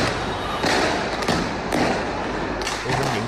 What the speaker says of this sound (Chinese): 有人从车上面发射多枚烟花，